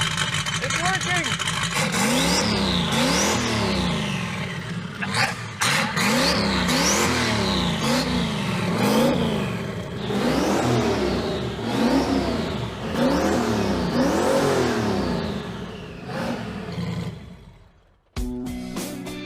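A junkyard car engine fires up and revs repeatedly, each blip rising and falling in pitch across a series of swells, loud and close, before cutting off abruptly near the end.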